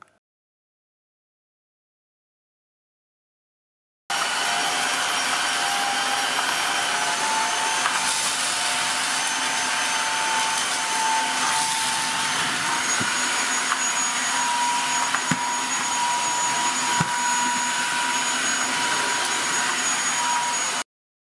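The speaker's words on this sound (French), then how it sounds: "Alors c'est un aspirateur laveur qui fait fortement penser au Tinco S3 que je vous avais déjà présenté." A Dreame H11 Max cordless wet-dry floor vacuum cleaner switches on after a few seconds of silence and runs steadily with a loud, close motor whine and airy rush, with faint bumps as it moves.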